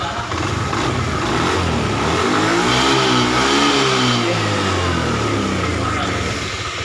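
A Honda Beat FI scooter engine, having a charging fault tested with a jumped battery, revs up and holds a loud, close, steady buzzing drone, with the pitch swelling midway before settling back.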